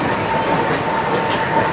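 The Busch Gardens park train rolls along its rails past the Serengeti animal area, a steady close rumble and rattle of wheels and cars without pause.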